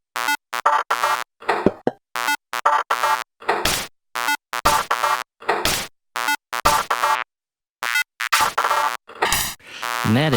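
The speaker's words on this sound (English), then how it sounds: "old office sounds like discs loading, fax machines going, things scrolling, things clicking, things beeping and booping" Synthesized old-office sounds of fax-machine tones, beeps, clicks and electronic chirps come out of a synth in choppy, rhythmic bursts split by short silences.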